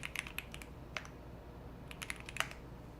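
Bursts of quick, crisp keystrokes on a Bubble 75 mechanical keyboard fitted with Aqua King switches, clicking unevenly in close clusters with short pauses between them.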